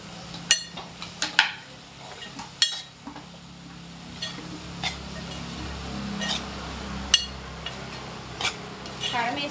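Chili powder being stirred into a cabbage curry in a pan, with a spoon scraping and clinking against the metal in several sharp strokes over a soft steady sizzle.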